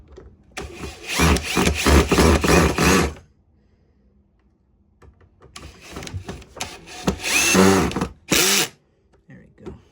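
A power drill drives screws into a Eureka AirSpeed vacuum during reassembly in two loud whirring bursts of a few seconds each, separated by a quiet gap, with a short final spin at the end.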